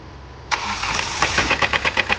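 A Hyundai i20 with a connecting rod knock starts up: a sudden crank and catch, then the engine settles into a rough idle with rhythmic knocking taps, close and alone.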